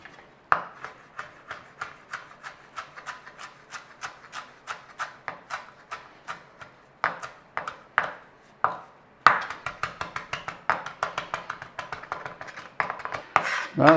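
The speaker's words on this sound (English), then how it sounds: "Parsley, we want to be giving the parsley a little chopping over." A knife chops parsley on a board in quick repeated strikes, crisp taps in steady bursts with short pauses, close up and with no talk.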